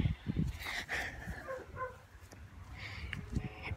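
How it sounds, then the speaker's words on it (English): A dog barks and yips a few times near a tree-climbing scene, short sharp calls over outdoor background with faint voices nearby. "Come on, Duchess, stop barking at us."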